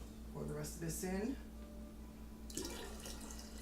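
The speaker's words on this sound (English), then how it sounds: "see if I can pour the rest of this in." Kombucha pours and trickles softly into a jar, a quiet splashing stream heard up close alongside a faint voice and steady background hum.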